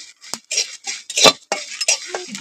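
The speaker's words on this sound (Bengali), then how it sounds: "যতক্ষণ না গন্ধ ছাড়ছে ততক্ষণ আমি এইভাবে নাড়ি চাড়িয়ে একটু ভেজে নেবো" Seeds of fennel, cumin and black cumin being stirred and dry-roasted in a pan, with a spoon or spatula scraping and clinking against the metal in short irregular bursts, close and fairly loud, with no talking.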